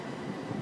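A train rumbles and rolls in toward a platform at Clapham Junction, a dense, steady mechanical roar filling the short moment.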